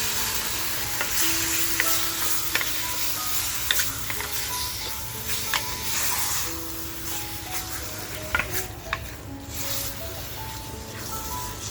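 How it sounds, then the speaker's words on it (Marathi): Cleaned goat tripe (vajri) frying in a pan, a steady loud sizzle with scraping and stirring clicks running throughout. "आणि आता जी आपण वजरी साफ करून घेतली आहे ना ती वजरी मस्त अशी याच्यावर फ्राय"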